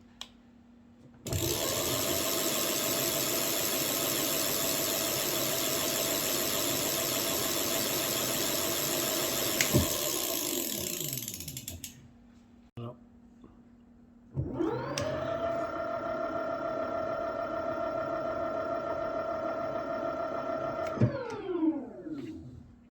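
An electric geared hub motor on a 48-volt battery, running at idle, whirs up to a steady high whine, spins down to silence, then starts again and runs evenly before winding down.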